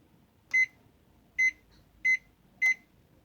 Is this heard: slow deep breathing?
no